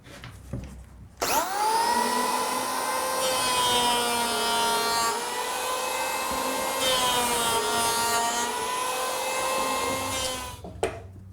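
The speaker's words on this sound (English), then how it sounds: "When using an electric planer, it's easier to set the blade nice and low and make 2 or 3 passes" Electric planer making a pass along a wooden framing stud, a loud steady high whine starting abruptly, holding for about nine seconds, then cutting off and spinning down.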